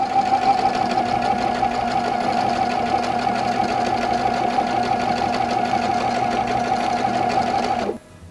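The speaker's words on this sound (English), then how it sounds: "See how much fun it is to do some free motion quilting on your quilts with your machine?" A sewing machine runs steadily through free-motion quilting swirls on a quilt, its motor humming loud and close for about eight seconds before stopping abruptly near the end.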